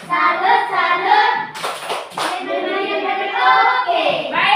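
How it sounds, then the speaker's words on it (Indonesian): A school class briefly bursts into a quick round of hand clapping for a classmate, sharp and close, set between stretches of an adult's and children's speech. "Tepuk tangan untuk Julian."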